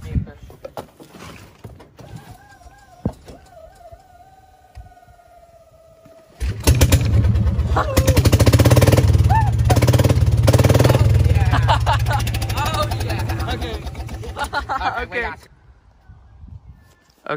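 A golf cart engine with the muffler removed is cranked and starts, then runs loud and raspy with a rough idle for several seconds before shutting off, preceded by quieter handling noises and talk.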